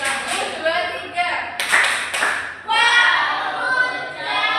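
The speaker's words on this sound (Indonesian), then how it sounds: "Sekarang kasih tepuk." Classroom applause during a mathematics teaching practice lesson, a group of students clapping in a sustained burst with scattered claps before and after, while a voice speaks over it.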